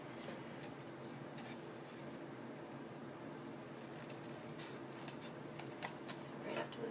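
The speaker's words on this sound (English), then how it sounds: "I'm just going to snip up the score line to the score line and completely cut out those squares" Scissors steadily snip and cut out squares of scored paper for a gift bag, a close, continuous rustling crunch of blade on paper with soft irregular snips.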